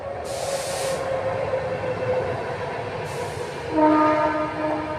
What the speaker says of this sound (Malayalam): ട്രെയിൻ അടുത്തെത്തിയിട്ടുണ്ട് കേട്ടോ. ഇത് എറണാകുളത്തു നിന്ന് എവിടെ നിന്നൊക്കെയോ വരുന്ന ട്രെയിനാണ്